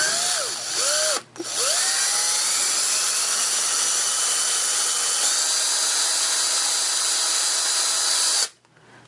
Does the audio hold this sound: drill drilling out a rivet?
yes